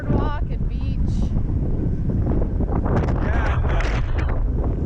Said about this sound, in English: It's sunny but awfully windy